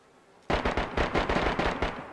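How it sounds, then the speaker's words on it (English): Gunfire in DayZ: a sudden loud burst of rapid, closely spaced shots starting after a quiet moment and continuing in a fast rhythm, with no talk over it. "It was a gunshot, so wild."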